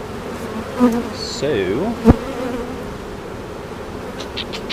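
Honeybees swarm around an opened beehive during a frame inspection, a steady close buzz with shifting whines of individual bees and one sharp knock partway through. A voice briefly speaks.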